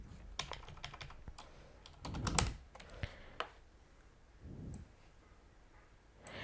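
Computer keyboard typing, a soft run of quick clicky keystrokes in bursts with short pauses, fairly quiet and close with no talking.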